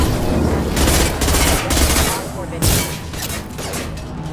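Dense bursts of automatic gunfire rattle through a Mass Effect 2 firefight aboard the Hugo Gernsback, sustained volleys with brief gaps and a sharp renewed burst midway, loud and close.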